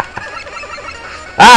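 Enemy birds in the video game Mega Man 4 let out a short, loud, harsh chiptune squawk. It arrives suddenly at the end after near silence and holds briefly as a bright, buzzing electronic screech.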